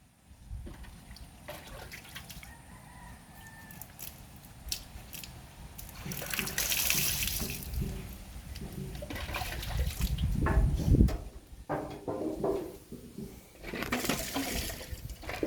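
Water poured out to clean a tiled floor splashes and trickles in uneven bursts, swelling loudest midway before easing into lighter dribbles and scattered clatter.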